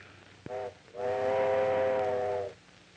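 A steam train sounds its whistle as it arrives: a short toot, then a longer, steady blast, loud and close, with no talk.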